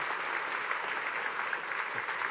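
Audience clapping at the Frontier Expo 2017 main stage presentation, a dense, steady wash of applause from a crowd that holds its level throughout without a break.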